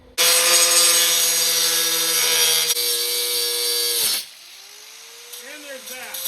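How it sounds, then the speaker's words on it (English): A power tool cuts loudly through a metal fender basket on a 1982 Honda XR500R scrambler build, a harsh grinding whine lasting about four seconds before stopping, followed by someone speaking. "let's cut that basket and then put this thing on"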